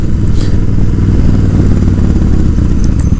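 A Suzuki Boulevard S83 1400cc cruiser motorcycle engine rumbles steadily at a low, throbbing idle, loud and close, with no voices.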